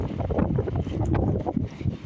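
A strong wind on a blustery day, gusting hard enough to send trash cans rolling, roars and buffets close against the microphone in a dense, rumbling rush with no clear talk.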